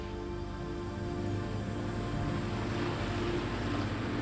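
A seaplane touches down on water during an airshow, giving a steady, broad rush of engine drone and water spray that holds loud and constant throughout, with no voices.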